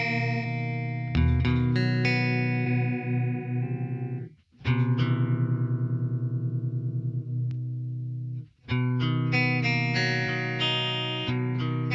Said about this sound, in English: that's almost a chorus sound